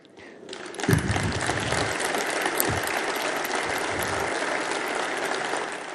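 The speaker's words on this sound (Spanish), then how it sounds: "Obviamente que los medios van a editar este aplauso" Applause rises from an audience during Javier Milei's address at the EFI Expo in Argentina, beginning softly and swelling within a second into sustained, dense clapping that fills the hall without voices on top.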